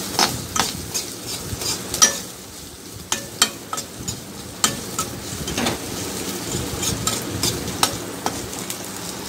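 Ginger garlic paste fries with cumin in a pan, a steady sizzle broken by repeated sharp clinks and scrapes of a spoon stirring against the metal, close and without talk.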